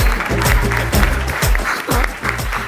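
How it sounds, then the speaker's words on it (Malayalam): An audience at a televised stand-up comedy show breaks into applause, a lively burst of clapping mixed with a pitched, music-like layer through the short stretch. "കൈയടിക്ക്."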